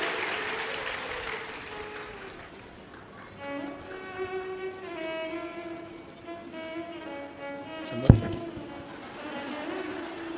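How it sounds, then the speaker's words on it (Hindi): An audience claps at a Shiv Purana katha, a steady patter of applause blended with sustained musical tones, and a sharp metallic clink rings out near the end. "एक बार जोरदार ताली बजा"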